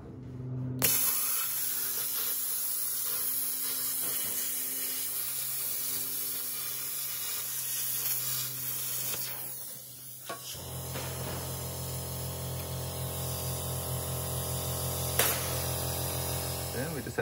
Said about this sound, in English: Now it's time to cut them out with the plasma cutter.